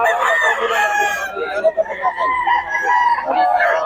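A rooster crows loudly and close by in drawn-out, wavering calls, with clucking and more crowing throughout, set among fowl for sale at a Bocaue market.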